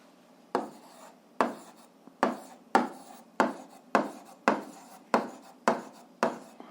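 A pen or chalk writes out a physics formula in a run of about eleven regular scratchy strokes, each a sharp onset fading quickly, close and fairly quiet, with no talk.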